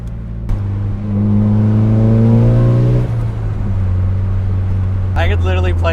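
A turbocharged Nissan 240SX engine revs, with rising harmonic tones and a steady loud drone, then settles back to a lower hum as a voice speaks near the end.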